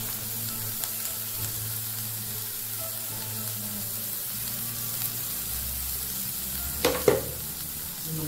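Vegetables for Chinese-style Maggi noodles sautéing in a hot pan, giving a steady low sizzle and frying hiss with a couple of brief clinks near the end, no talking.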